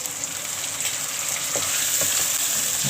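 Ground garam masala being stirred into meat frying in a pan for bhuna gosht, giving a steady close sizzle with a few soft scraping stir sounds and no voices.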